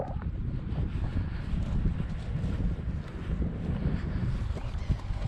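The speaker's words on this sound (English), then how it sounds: "We've got a gentle wind coming from the south," A gentle south wind blows outdoors on the shore in the late afternoon, a steady broadband rush and rumble on the microphone that runs unbroken through the whole stretch.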